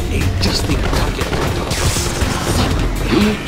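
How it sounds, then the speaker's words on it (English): Cannon fire rings out in the real-time strategy game Red Alert 2 Mental Omega, a dense, loud barrage of booms and crashing impacts blending with battle noise for several seconds. "Cannon release and fire."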